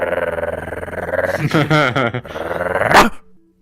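A person's voice imitates a dog, starting with a long rough growl and breaking into a couple of sharp barks near the end, loud and close.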